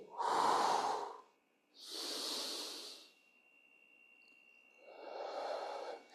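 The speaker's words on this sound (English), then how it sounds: "Inhale as you plant. Exhale as you reach that heel." Three long, loud, close breaths in and out, even and unhurried with pauses between them, taken during a pelvic mobility exercise.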